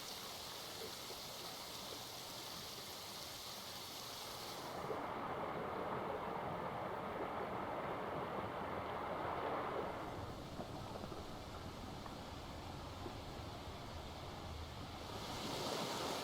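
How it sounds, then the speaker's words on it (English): A waterfall sound effect gives a steady, dense rush of falling water that fills the scene without a break, its tone shifting slightly partway through, with no speech. "You are standing in front of the waterfall or somewhere surrounded with waterfall because of that sound."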